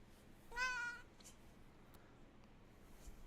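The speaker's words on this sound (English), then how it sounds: "Cat break. Meow." A cat gives a single clear meow, close and distinct, lasting about half a second, with a quiet room around it afterwards.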